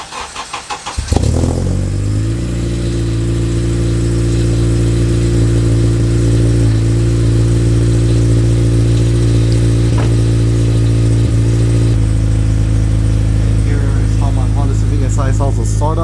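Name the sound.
modified 8th gen Honda Civic Si engine startup, 3-inch race exhaust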